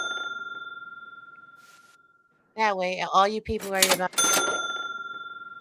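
A cash register ching rings out and fades slowly, then a person talks briefly and another bright bell chime sounds near the end.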